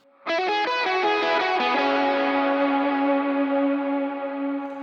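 An electric guitar lead run with effects, a quick ascending series of notes that settles into a long sustained ringing chord with chorus and echo, loud and close, played alone.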